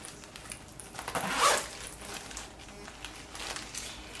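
A Primark pouch with a pretty bow is unzipped and opened, giving a short rasping zip burst near the middle, followed by soft crinkling handling sounds at close range.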